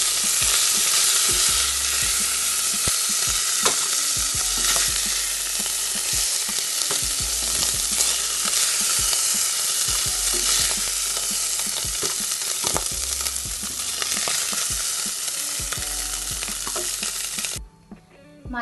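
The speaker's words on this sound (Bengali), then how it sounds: "মাছের মাথাগুলো ভেঙে দিয়েছি, এবার ভাজা হয়ে গেছে," Broken silver cup fish heads fry in oil, a loud, steady close-up sizzle with intermittent stirring and scraping, cutting off abruptly near the end.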